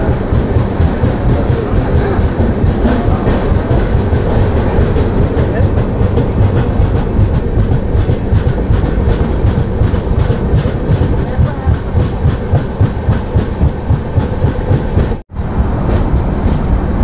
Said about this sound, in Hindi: अभी ट्रेन डिपार्ट हो रही है